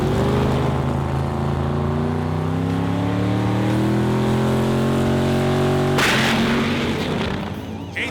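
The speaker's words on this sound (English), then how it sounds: "That's the first quarter mile pass on the car since 2015." A drag race car at a drag racing event roars through a quarter mile pass, a loud, sustained engine howl with rising pitch sweeps that cuts off abruptly near the end, followed by a brief lower rumble.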